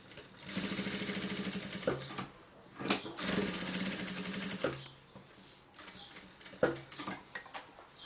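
A sewing machine stitches a folded bag strap for a shoulder and stroller baby bag, running in steady bursts of rapid mechanical chatter, with a pause and short stop-start runs toward the end, close and fairly loud.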